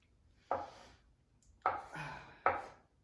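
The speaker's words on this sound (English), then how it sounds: "Cut it in half, cut it in half, and just chop." A knife chops through a boiled egg on a cutting board for Spanish potato salad, three separate crisp strikes with short gaps between them, close and clear with no talking.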